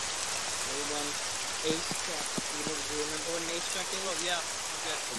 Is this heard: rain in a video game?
yes